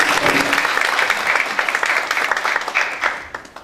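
Loud applause from a large audience fills the room at a panel discussion, steady at first and then thinning out toward the end.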